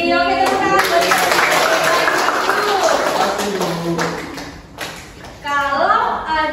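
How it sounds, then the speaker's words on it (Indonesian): A class of students in a micro-teaching Indonesian language lesson bursts into a dense round of clapping, fairly loud and close, which fades out before a voice takes over near the end. "tepuk tangan buat kita"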